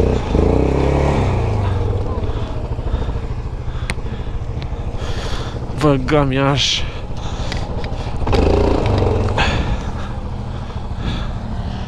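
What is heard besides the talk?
ATV engine running on a slope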